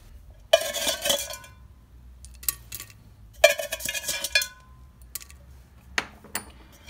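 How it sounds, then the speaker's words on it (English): Horticultural charcoal spooned into a glass terrarium, heard as a couple of bursts of gritty scraping and clinking against glass, with a few sharper taps and clinks between them, fairly close and with no talking. "I'm going to get my horticultural charcoal and I'm going to just spoon it in there."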